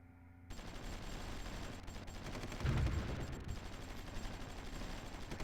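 A dense crackle of massed gunfire fills a zombie scenario in the strategy game Supreme Ruler Ultimate. The rumbling fusillade rolls on continuously and swells into a heavier burst midway.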